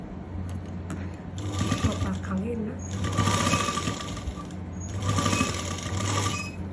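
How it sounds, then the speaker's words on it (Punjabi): Sewing machine stitching elastic lace onto cloth, running in bursts with a steady motor hum and rapid needle clatter that start and stop, while someone talks over it. "ਇੱਥੋਂ ਆਪਾਂ ਸਲਾਈ ਸ਼ੁਰੂ ਕਰਨੀ ਹੈ"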